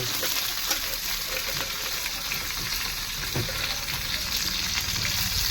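Pieces of fish fry in mustard oil with a dense, unbroken sizzling hiss, steady and close throughout, with faint occasional pops and no voices.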